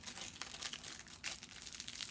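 Shiny crinkly paper is pinched and twisted into a craft flower, giving brief crisp crackles and rustles in quick irregular bursts, close and fairly quiet with no talk.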